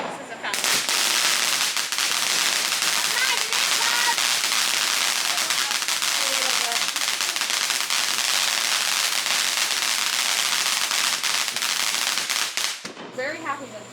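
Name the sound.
firework fountain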